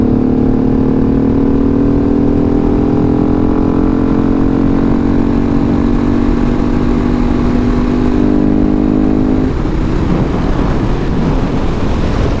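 A 2019 KTM 690 SMCR single-cylinder supermoto rides along at speed, engine drone rising steadily in pitch and then easing off near the end, heavily buried under loud wind roar against the microphone.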